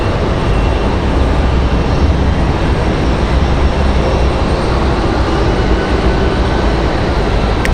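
A CRJ regional jet climbing out from Raleigh-Durham International airport gives a steady, loud broadband roar that holds evenly throughout with no voices.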